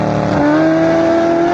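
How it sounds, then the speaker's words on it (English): A C8 Corvette Z06 does a burnout at a drag race launch, giving a loud, sustained engine roar with rising pitch and tire squeal, close and continuous. "Got a little burnout in there."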